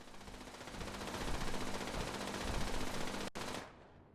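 Turret machine-gun fire during a battle in Fallout 76, a dense, loud, continuous rattle lasting several seconds that briefly breaks off near the end before a final burst.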